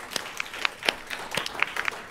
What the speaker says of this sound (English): So we'll give her, please, a round of applause.